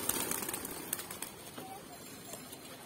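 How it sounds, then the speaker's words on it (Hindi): Pigeons released from a coop take off at once, a burst of flapping wings strongest at the start and then thinning into scattered flutters, with light background noise. "गाइस अभी कबूतर खुलते ही उड़ान भरेंगे"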